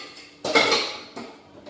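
Three metal pressure cookers from India clank together in a kitchen in a few quick bursts, one loud clatter followed by two softer knocks, close by.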